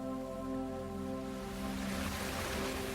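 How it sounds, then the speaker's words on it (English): Ocean waves roll onto a beach in a steady, continuous wash of surf. The sound is close and broad, with a low tonal hum underneath. "as you hear the rhythmic waves roll in"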